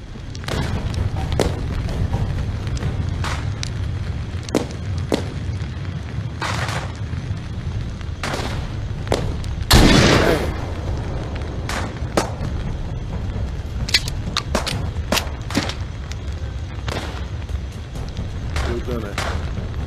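Repeated shotgun blasts in The Walking Dead VR game on Oculus Quest 2, sharp bangs at irregular intervals with one heavier boom near the middle, loud and close over a constant rumble.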